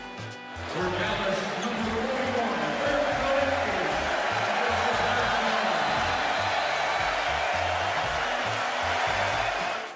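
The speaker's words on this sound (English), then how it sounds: "listen to how the crowd welcomed him" A large arena crowd in Boston's TD Garden roars and cheers continuously to welcome Dirk Nowitzki at a Celtics–Mavericks NBA game, a dense sustained wall of noise with rhythmic thumps underneath.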